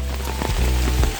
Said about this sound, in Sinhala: තාමත් එක දිගට වහිනවා.